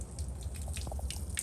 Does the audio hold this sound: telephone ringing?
no